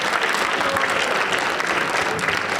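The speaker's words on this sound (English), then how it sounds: "a round of applause" An audience at a school college guidance meeting claps steadily in a dense, even burst of applause, fairly close, with no pauses and no talking over it.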